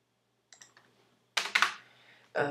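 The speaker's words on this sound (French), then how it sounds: "Désolé pour le clavier, mais j'ai un clavier qui tue comme ça, là, dès qu'on appuie dessus" Loud clicky computer keyboard keys are struck close up in irregular bursts: a few light taps, then a pause and a flurry of heavy, clattering strokes, with another hard burst at the end.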